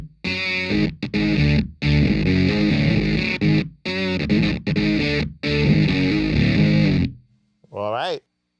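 Crunchy distorted electric guitar chugs through a riff in stop-start phrases, loud and close, recorded through an SM7 and a KSM313 ribbon microphone blended at equal level; a brief voice-like sound appears at the very end.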